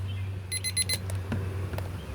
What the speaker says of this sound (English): First of all, I'm going to stop this timer.